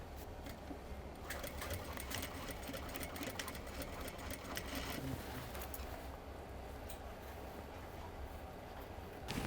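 Sewing machine running steadily while top stitching a jeans waistband at the belt loop, a continuous close mechanical whir with fast rapid stitching throughout, no talking.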